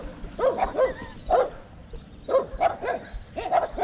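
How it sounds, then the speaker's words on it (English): Several dogs bark loudly and repeatedly near a spot where people are fishing by the water, the sharp barks coming in bursts separated by brief pauses. "Your dogs are loud too."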